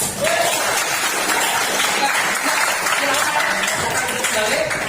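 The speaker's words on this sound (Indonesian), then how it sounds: "Tepuk tangan." Steady applause from an audience during a lesson session on national insight and making peace with oneself, dense and continuous for about five seconds, with some voices mixed into the clapping.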